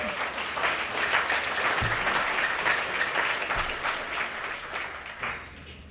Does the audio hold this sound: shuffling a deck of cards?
no